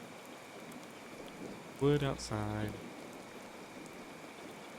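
Steady rain falls throughout on a tropical island in Card Survival: Tropical Island, a soft continuous hiss with a brief voice speaking partway through.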